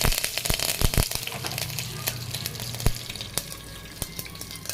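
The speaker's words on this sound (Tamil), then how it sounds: "பச்சை மிளகா, இஞ்சி, வெங்காயம், தக்காளி எல்லாத்தையும் போட்டு நல்லா ஒரு வதக்கி" Green chili, ginger, onion and tomato sauté in a pan for a one-pot poori masala curry, with a soft sizzle under sharp clanks and scrapes of stirring.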